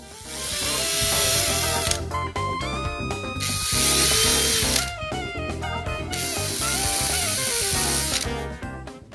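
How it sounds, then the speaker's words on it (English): A power drill boring screw holes in a barn door for handle installation, whining loudly in three sustained bursts separated by short pauses and stop-start clicks, close and with no talk. "drill the holes for the screws."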